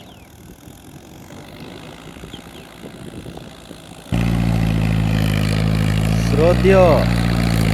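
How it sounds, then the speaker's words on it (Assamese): A Mahindra Arjun tractor with a rotavator working a muddy paddy field: quiet outdoor ambience with a brief spoken word gives way to a loud, close, droning diesel engine that continues steadily to the end. "এয়া চাওক মহিন্দ্ৰা অৰ্জুন ট্ৰেক্টৰে কেনেকৈ হাল মাৰে, বোকাত হাল মাৰে"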